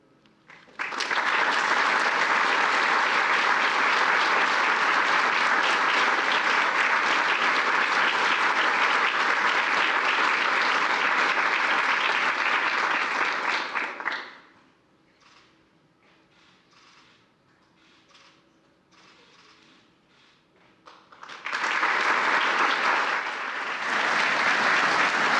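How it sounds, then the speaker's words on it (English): Medal of Valor ceremony audience claps for the recipients in long, dense, loud applause that fades out around the middle, falls to near quiet, then swells again near the end. "I'd like to give one last round of applause to the recipients"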